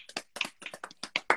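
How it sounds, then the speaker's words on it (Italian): About ten separate claps sound close and fairly quiet, in an uneven rhythm, from a small group during an evening live stream. "Applauso a Elvira per l'idea della serata."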